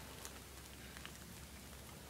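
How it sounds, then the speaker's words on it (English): Steady rain falls in a continuous hiss, with scattered droplets tapping close by and no voices. "It's rainy."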